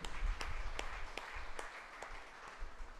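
A church congregation claps in thanks to God during a sermon, a moderate round of applause with sharp individual claps standing out over a steady, slightly distant patter.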